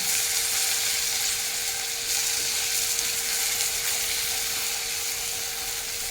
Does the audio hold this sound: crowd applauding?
no